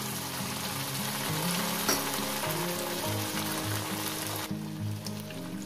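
Potatoes and broad beans fry in hot oil with ground spice paste, giving a steady, close, dense sizzle that runs unbroken throughout, with low tonal hum beneath.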